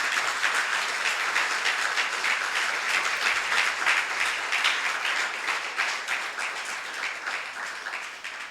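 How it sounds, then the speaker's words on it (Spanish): Sustained applause from a church congregation clapping for God, dense and loud throughout, thinning slightly toward the end. "Pues denle un aplauso al Señor"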